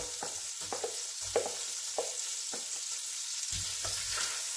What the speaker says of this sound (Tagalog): Umpisa na po natin mag-gisa. Ayan. Unahin ko muna ang luya.